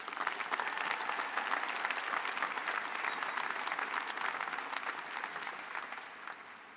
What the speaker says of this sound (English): Let's just have a round of applause for everyone who helped these graduates get here today.